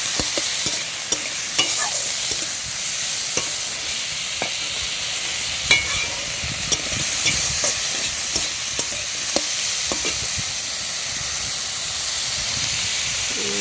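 Chili powder frying in oil in a pan at home, a continuous close hiss and sizzle with scattered clicks and scraping of a spoon stirring, steady and fairly loud without any talking.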